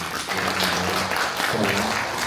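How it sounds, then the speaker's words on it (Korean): An audience applauds after a presentation and discussion at an academic conference on Korean Buddhist Seon thought, dense and steady clapping filling the room at close range throughout. "좋은 발표와 토론 해주신 두 분께 큰 박수 부탁드리겠습니다"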